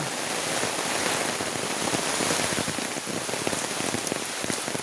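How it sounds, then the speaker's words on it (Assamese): Steady rain falling on surfaces during the monsoon season near flooded fields, a loud, dense patter of drops continuing throughout with no voices. "বৰষুণ বতৰ,"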